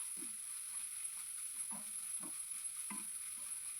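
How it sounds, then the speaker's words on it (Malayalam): Rice mixture being stirred in a pan, soft spoon scrapes repeating in a slow rhythm over a faint steady sizzle, quiet and close with no talk. "നല്ലപോലെ മിക്സ് ചെയ്ത് കൊടുക്കാം."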